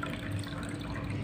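A glass of water poured into a pan of mixed vegetables, a short, soft splashing trickle heard close and faint with no voices.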